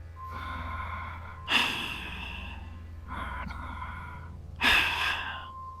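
A voice imitates a man's heavy breathing close up, with two slow cycles of a drawn-in breath followed by a raspy exhale.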